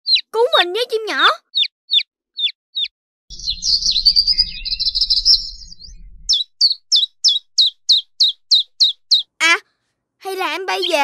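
Little cartoon bird chirping in an animated Vietnamese children's show: bright, quick repeated tweets in bursts, with a brief buzzy whoosh effect in the middle and more chirps after; no speech heard.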